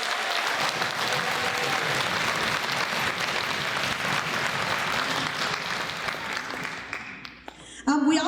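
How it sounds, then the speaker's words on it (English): Sustained applause from a crowd at a high school orchestra spring concert, dense and even for several seconds before thinning out, followed by a brief burst of noise at the end. "that deserves a round of applause."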